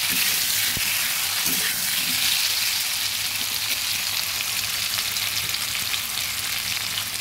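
Papaya and potatoes sizzle and fry steadily in a pan for a country chicken curry, with a constant close hiss and faint scraping of a spoon stirring through the pieces.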